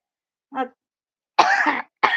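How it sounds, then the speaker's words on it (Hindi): A short human cough followed by two louder, harsher coughs, close up with silence between them. "खांसी आने लगी हमको"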